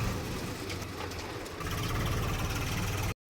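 A Swaraj tractor engine runs steadily close by, a continuous low rumbling drone that holds at an even level throughout before cutting off abruptly at the end.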